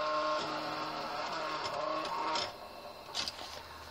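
The gyroscope in a DC-9 standby attitude indicator from Northwest Airlines whirs continuously and close by, with a busy mechanical buzz that fades out about halfway through, leaving a few faint ticks.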